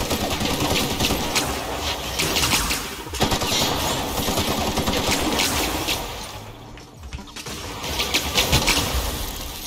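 Gunfire in The Outer Worlds, loud rapid automatic bursts with short breaks, dense and close throughout.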